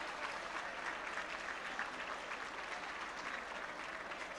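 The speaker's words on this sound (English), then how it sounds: "Let's give Governor Carnahan a big round of applause" A dinner audience applauds Governor Carnahan with steady, even clapping from many hands, fairly distant and unbroken throughout.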